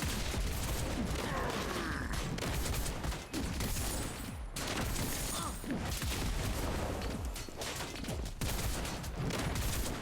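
Grenades launched repeatedly in Predecessor amid a busy fight, a dense rapid stream of popping blasts and mechanical clatter, loud and continuous with brief dips.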